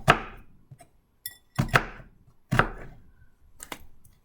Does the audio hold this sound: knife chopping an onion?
yes